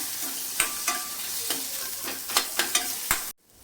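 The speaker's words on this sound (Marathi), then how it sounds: "याच्यामध्ये लसूण आणि आलं टाकणार आहे तेही आपण छान भाजून घ्यायचे" Onion with garlic and ginger fries in a pan, giving a steady low sizzle with a few sharp clinks and scrapes of stirring, close by, before the sound cuts off abruptly near the end.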